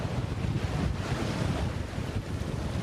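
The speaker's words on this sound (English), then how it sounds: "we've got a bit more wind" Wind blows hard and steadily across a sailboat heeled over under a partly furled genoa and a reefed mainsail, with rushing gusts and surf washing along the hull throughout, close and loud, with no voices.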